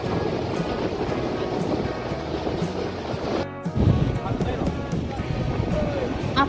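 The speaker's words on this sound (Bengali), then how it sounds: "এখান থেকেই সমুদ্রের ঢেউয়ের প্রায় সবাইকে আছড়ে ফেলে দেওয়ার মতন অবস্থা" Sea waves surge and break continuously on the beach at Digha, a steady roaring wash with a brief drop and renewed crash midway, heard close under a windy, noisy shoreline with faint voices nearby.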